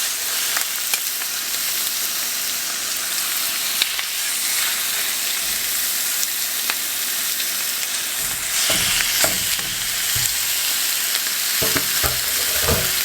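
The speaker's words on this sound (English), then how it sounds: "So we're going to cook these on this side for a couple of minutes and then flip them over, let them cook on the other side" Chicken pieces fry skin side down in a pan with a steady, close hiss and sizzle. Some louder spatters and stirring clatter come near the end.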